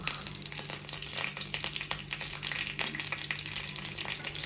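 Ginger, garlic and curry leaves fry in hot oil in a pan, giving a steady, close sizzle and crackle with brief spitting bursts throughout.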